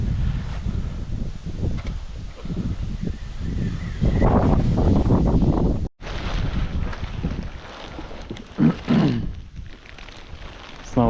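Wind buffets the microphone on the Stokhid river during autumn pike fishing, a loud rough rush that gusts and drops, with faint water sounds beneath.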